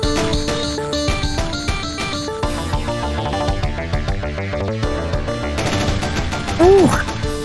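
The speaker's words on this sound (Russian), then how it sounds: "Вот это автоматная очередь в конце." An automatic gunfire burst in the Friday Night Funkin Madness Combat mod rattles quickly over loud, driving game music, with a short rising tonal effect near the end.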